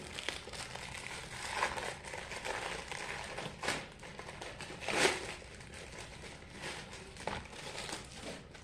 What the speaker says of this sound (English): Sorry about the noise of me opening them.